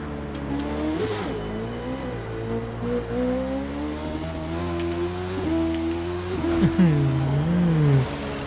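Modified carbon-bodied Honda CBR1000RR SP superbike in The Crew 2 racing game, engine droning steadily with rising and falling revs, a sharp throttle blip near the end, and faint speech underneath.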